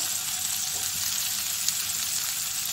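Chopped tomato goes into a hot pan of butter with onion, ginger and garlic for paneer butter masala, giving a steady, loud, even sizzle and hiss close up, with no talk.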